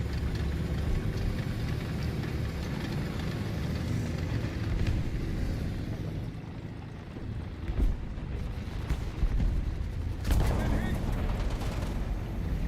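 Machine gun fire in War Thunder, a dense, loud rattle of rounds over a steady engine rumble, thinning briefly midway before resuming with sharper bursts.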